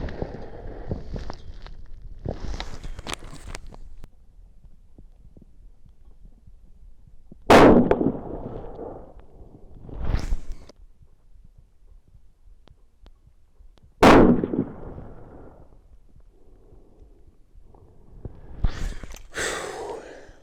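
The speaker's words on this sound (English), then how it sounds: "We're going to go ahead and shoot this group" A Savage Axis rifle fires a group of shots outdoors: sharp, loud reports spaced several seconds apart, each ringing off, with quiet stretches and faint rustling between them.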